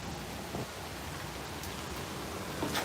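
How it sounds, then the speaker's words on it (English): Steady rain falling outside, a soft continuous hiss with scattered faint drops, quiet and even throughout. "It's raining out this motherfucker."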